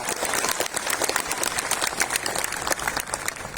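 An audience claps in steady, dense applause throughout, a full even patter of many hands with no talking over it.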